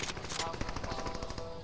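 Rapid gunfire from the video game Fortnite, steady bursts of shots filling the short stretch at a fairly low level, with a voice talking over the shooting.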